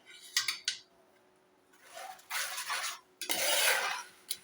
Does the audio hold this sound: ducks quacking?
no